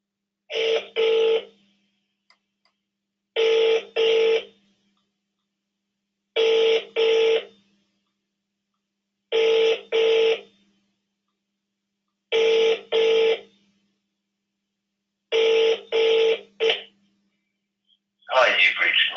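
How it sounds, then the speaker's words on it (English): A phone rings out while calling a property vendor, giving six evenly spaced double-pulse ring tones separated by silence, each loud and clear, before a brief answering sound at the end. "Let's call Mark."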